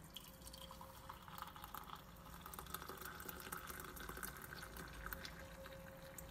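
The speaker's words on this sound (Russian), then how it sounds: "Ну а теперь мы заливаем все кипятком." Boiling water trickles from a kettle over sea buckthorn tea in a cup or pot, a faint, steady liquid pour with light dripping splashes running continuously, alone without talk.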